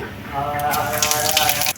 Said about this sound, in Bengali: তেল গরম হয়ে গেছে দিয়ে দিচ্ছি গোটা জিরে তেলের মধ্যে